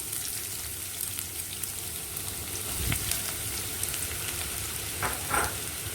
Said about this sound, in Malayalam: 1/2 കപ്പ് ചുവന്നുള്ളി അരിഞ്ഞതും ചേർത്ത് വാട്ടിയെടുക്കാം.